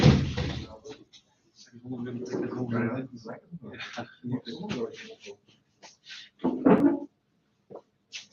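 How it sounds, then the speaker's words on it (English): A door is pushed shut in a seminar room before an electron microscopy meeting, one solid thud near the end that stands out from ongoing talking. "I'll just close that door."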